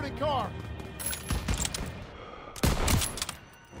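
Gunfire bursts in Call of Duty WWII campaign play, several sharp shots and volleys clustered around the middle and end, with a voice talking in between.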